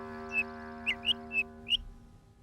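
Small cartoon bird chirping: five short, bright tweets spaced unevenly over a low steady musical drone, fairly close and clear.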